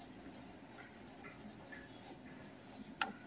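A pen writes out a French sentence, making faint, close scratching strokes in short bursts, with one small tap near the end. No voice is heard over it.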